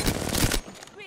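Rapid automatic gunfire from the Apex Legends battle royale game, a dense burst of shots for about half a second that cuts off abruptly, followed by a faint tail.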